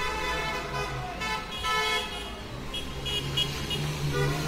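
Car horns honking in the street as sports fans celebrate, with sustained and overlapping toots under steady traffic noise, continuous and fairly loud throughout.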